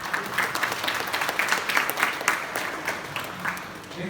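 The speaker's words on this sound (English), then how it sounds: "Big round of applause." An audience at a Bhagavad Gita values olympiad applauds a young participant, a dense, even crowd clapping that carries steadily through the whole stretch, fairly loud and close.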